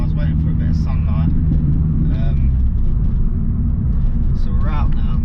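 A Mini Cooper S R53 on its first drive, an old project track car, its engine a loud steady rumble throughout, with cabin creaks and a person talking over it.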